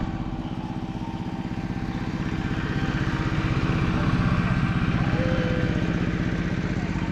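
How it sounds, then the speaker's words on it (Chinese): A walk-behind tractor engine in the mountains of the Golden Triangle chugs with a loud, steady, rapid low-pitched putter, running continuously nearby. "金三角这个山里到处都是手扶，手扶拖拉机"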